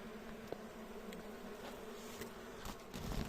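A steady, low insect buzz of honeybees in an open hive being smoked during autumn winter preparation, soft and continuous, with a few faint clicks and a slightly louder rustle near the end.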